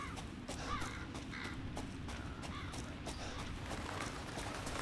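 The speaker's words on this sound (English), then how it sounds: "Oh, we got the crows." Crows cawing in the horror game Resident Evil 7, several harsh caws scattered over a steady low ambient rumble, moderately near and faint, with no talk.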